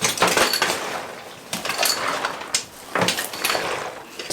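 Water trapped inside a scuba diving buoyancy compensator sloshes as the vest is shaken, coming in several rhythmic bursts of splashing, fairly close, with no talking.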